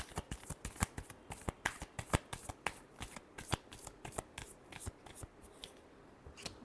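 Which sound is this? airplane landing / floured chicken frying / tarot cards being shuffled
tarot cards being shuffled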